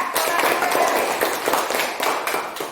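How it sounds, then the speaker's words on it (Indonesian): Schoolchildren in a classroom applaud a classmate with dense, continuous clapping that stays loud and close for the whole stretch. "Tepuk tangan buat teman kita."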